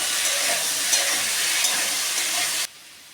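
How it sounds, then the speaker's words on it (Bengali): Sliced potatoes seasoned with salt and turmeric fry in a pan, giving a loud, steady sizzle and hiss that stops abruptly near the end. "দিয়ে এবার আমি আলুটাকে ভালো করে ভেজে নেব।"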